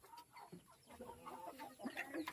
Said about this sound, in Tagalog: So native pa rin to, native. Native chicken.